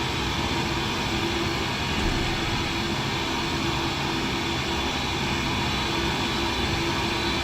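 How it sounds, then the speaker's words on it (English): A UPS MD-11F trijet cargo aircraft makes a steady, broad engine roar and rush that holds at an even level throughout, with no talking. "take a moment just to admire that classic trijet"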